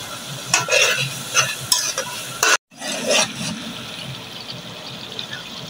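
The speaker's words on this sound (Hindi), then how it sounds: "मैं इस मसाले को भून लूँगी, फिर इसमें टमाटर शामिल करूँगी" Masala frying with tomatoes in a pan, a steady sizzle with bursts of stirring scrapes; a brief dropout near the middle, then continued frying.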